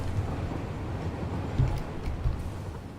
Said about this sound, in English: Okay, so that is just a random unrelated train